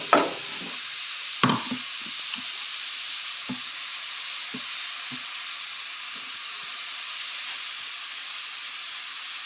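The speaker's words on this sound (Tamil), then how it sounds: "தேங்காவை போட்டு கிளறி" Grated coconut stirred into frying cabbage: a soft, steady hiss of sizzling with two sharp spatula knocks at the start, then sparse light taps fading into a quiet continuous fry.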